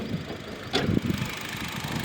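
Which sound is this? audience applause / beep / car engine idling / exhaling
car engine idling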